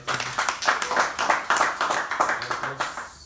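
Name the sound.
audience clapping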